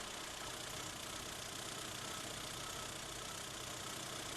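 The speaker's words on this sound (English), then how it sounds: "Start the engine" A Rover engine with MEMS modular engine management idles steadily during a fuel pressure check, a continuous close mechanical hum with no talk over it.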